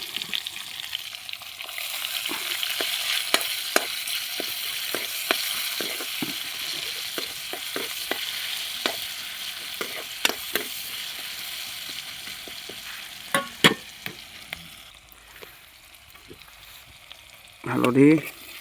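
Onions sizzling in oil beside half-fried fish in a pan, a steady soft frying hiss broken by scattered pops and crackles, with a brief louder scrape or stir near the end.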